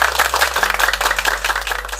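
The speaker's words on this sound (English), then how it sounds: "Let's give her a round of applause." Audience applause at a teacher's talk on classrooms in Vietnam, a dense, steady patter of many hands clapping close and loud for the full two seconds.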